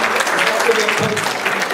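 Brief, steady applause from an audience at a library lecture series event, a dense wash of clapping at moderate loudness with faint voices mixed in.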